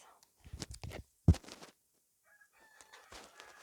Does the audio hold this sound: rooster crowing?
yes